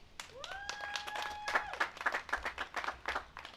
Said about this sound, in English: The essential workers that have continued to work during this time to provide services also deserve a huge round of applause.